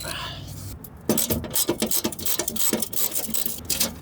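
Hand-unbolting a bolt on a 200k-mile JDM car produces a burst of quick scraping, clicking ratchet-like mechanical strokes. The sound starts after a brief pause and is close, rhythmic and uneven.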